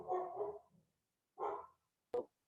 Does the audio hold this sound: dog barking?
yes